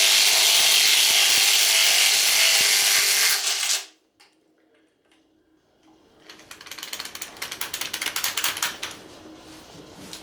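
A socket wrench ratchets engine bolts loose, a quick run of clicking pawl strokes following a burst of steady mechanical noise and a brief quiet gap, close and fairly loud.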